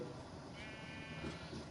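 Sheep bleat in a video game, a few soft overlapping calls over a steady background hum of game ambience.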